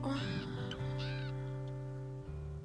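Several crows caw in quick succession in the video game WolfQuest: Anniversary Edition, over a steady low hum and sustained tones, the calls fairly loud and close.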